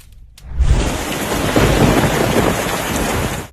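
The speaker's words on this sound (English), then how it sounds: "During a storm over Tashkent," Loud thunderstorm over Tashkent, Uzbekistan, heavy rain pouring steadily close by as a deep thunder rumble swells in after a brief quiet start and carries on under the downpour.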